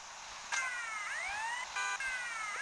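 A police siren in the video game GTA wails with repeated rising and falling sweeps, loud and close, running steadily through the whole stretch with no talk.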